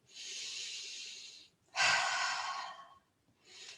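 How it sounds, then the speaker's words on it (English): Slow, deep breaths drawn in and let out during a self-massage of the head and neck, each a long airy rush close to the ear, two full breaths and the start of a third, with no words spoken. "Breathing in as you press, breathing out as you pull."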